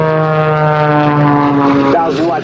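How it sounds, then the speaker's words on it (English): Propeller aerobatic airplane at an airshow, a loud steady droning engine note with strong harmonics that bends downward near the end as the plane passes, heard beneath an announcer's voice. "Flies that airplane right back around up on that right side."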